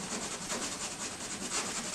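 Pink Pearl eraser rubbed over pencil marks on a gessoed painting panel, a quiet continuous scrubbing hiss in quick back-and-forth strokes, close and alone.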